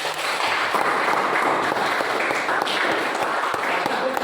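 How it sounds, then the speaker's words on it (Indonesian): A classroom audience applauds two student groups, a dense, steady burst of clapping that stays loud and even for several seconds with no talk over it. "Kita beri aplaus dulu untuk kedua kelompok."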